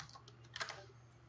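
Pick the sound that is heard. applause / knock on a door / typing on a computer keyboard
typing on a computer keyboard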